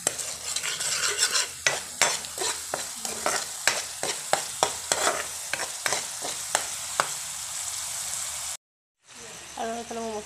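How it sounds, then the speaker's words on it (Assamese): A spoon scrapes and clinks rhythmically in a pan while turmeric and salt are stirred into sizzling spices frying in oil, with soft talk alongside before a brief pause. "আৰু এইখিনি ভালদৰে হিলাম"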